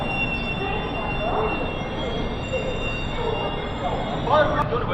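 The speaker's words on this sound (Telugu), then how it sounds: "ఆ ట్రైన్ వచ్చేసరికి కార్బా నుంచి ట్రివాండ్రం వరకు వెళ్ళే సూపర్ ఫాస్ట్ ఎక్స్ప్రెస్." The Korba–Trivandrum superfast express passes at Nellore railway station with a steady rumble of wheels on rails and a thin high squeal running through, close by, while someone talks over it.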